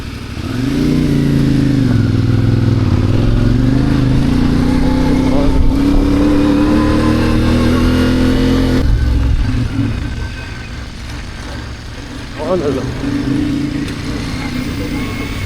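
A motorcycle rides offroad on rough trails in the Margalla Hills near Islamabad, its engine droning loud and close with rising and falling revs, then easing off toward the end.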